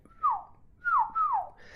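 A voice imitates the chirp of a Japanese crosswalk signal, three quick descending whistled chirps, close and fairly quiet, the last two in fast succession.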